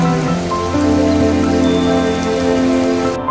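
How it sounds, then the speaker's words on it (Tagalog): Heavy rain in Bilbao pours steadily on surfaces, a dense, loud, continuous patter with no talking. "Grabe ang ulan, no?"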